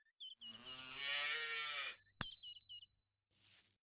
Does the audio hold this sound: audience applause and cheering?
no